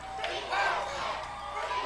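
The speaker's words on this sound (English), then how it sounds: "Listen to that crowd." A high school football crowd at a Mountain Home Bombers versus Harrison Goblins game roars and cheers steadily in the stands near the end of the game, loud and sustained, with voices mixed into the din.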